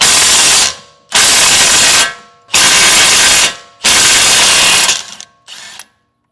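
Impact wrench loosening a 22 mm suspension bolt on a 2009 Toyota Corolla: four loud, close bursts of rapid hammering rattle, each about a second long, separated by short pauses, then two briefer fading bursts at the end.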